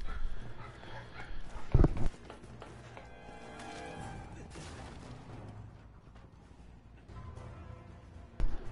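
Dogs bark in a house during a nighttime game stream, a loud close cluster of barks near the start and another sharp bark at the end, with low room noise and faint sounds between.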